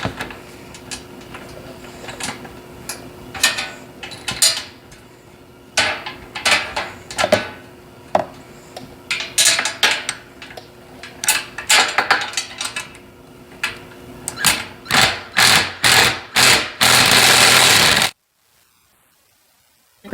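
Mounting hardware being tightened on an outdoor cargo carrier system, heard as close metallic clicks and ratcheting bursts that quicken into a dense run before stopping abruptly.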